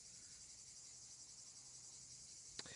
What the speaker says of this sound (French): On entend les cigales, il fait 31, 32, hein.